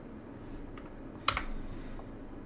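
Computer keyboard keys pressed as a Ctrl+B shortcut in Blender 4.0: a single close, sharp clack of a key combination with a brief follow-up click over faint room hiss.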